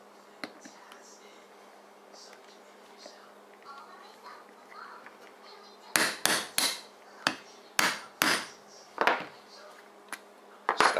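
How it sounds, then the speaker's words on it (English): Regular steel hammer striking a snap rivet on a leather tomahawk cover and loop, about ten sharp, loud metallic taps in quick clusters near the end, following quieter handling noise. "you're just going to actually use a regular old hammer"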